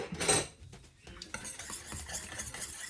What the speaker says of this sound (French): je vais mélanger les œufs avec la crème